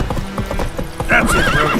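Roach, the horse in The Witcher 3, galloping with rapid close hoofbeats, then a loud whinny near the end.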